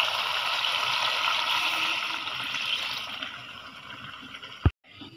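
Water poured from a vessel into a pot of browned curry, a steady splashing rush that slowly fades, then a single sharp knock of the vessel before near silence.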